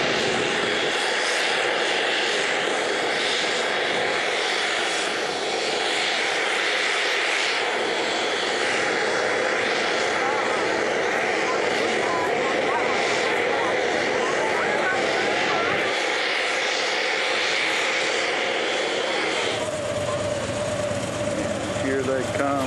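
A jet carrying Paul McCartney arrives at Tullahoma Regional Airport for Bonnaroo, its engines roaring loudly and steadily for a long stretch with a shifting whine, while a voice talks over it.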